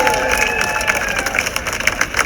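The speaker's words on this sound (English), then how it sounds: "Give them a round of applause." Steady applause and cheering from a large crowd at an outdoor rally against antisemitism in London, a dense continuous wash of clapping filling the whole stretch, loud and close.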